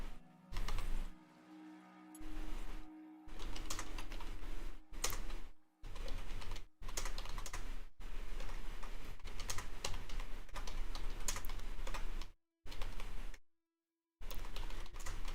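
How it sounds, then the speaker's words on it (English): Rapid typing on a computer keyboard, close and clear, comes in irregular bursts of quick key clicks separated by short pauses. "Dang it, why can't I type? Because I can't see the keyboard, probably."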